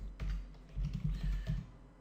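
Keystrokes on a computer keyboard while entering a MySQL query in PHP, a quick irregular run of close, moderately loud clicks and taps with brief pauses, no talking.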